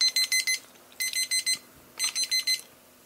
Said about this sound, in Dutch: het is nog een timer voor iets anders ook